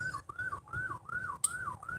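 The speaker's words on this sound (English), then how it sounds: "Heard some sirens." A distant siren wails in a fast, repeating rise-and-fall pattern, fairly faint and continuous.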